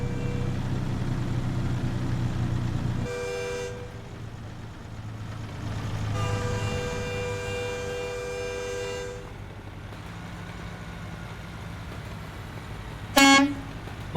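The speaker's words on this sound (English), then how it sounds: "Mine's louder, just saying." A truck horn in American Truck Simulator blares in long sustained blasts, three times over steady engine rumble, followed by a short sharp squeal near the end.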